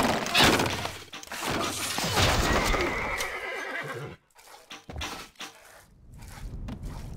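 Stronghold Crusader HD game horse sounds: a loud whinny and clip-clopping hooves, mixed with crashing and breaking effects, then quieter scattered noises.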